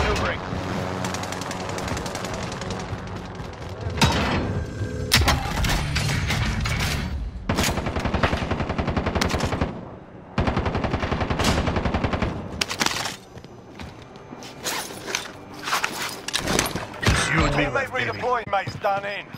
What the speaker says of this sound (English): Taking fire over Lockdown here!